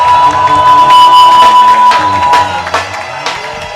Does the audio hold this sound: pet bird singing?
no